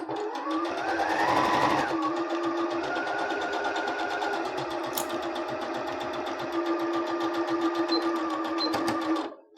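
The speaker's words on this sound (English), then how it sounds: "If you have an issue with your sewing machine trying to eat your fabric" A sewing machine runs steadily, stitching a seam in legging fabric with a fast rhythmic whir and brief pauses in speed, close up and loud throughout.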